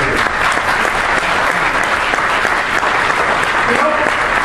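Steady, loud applause from a crowd at a Republican conference in Rhode Island, a continuous wash of many hands with faint voices mixed in.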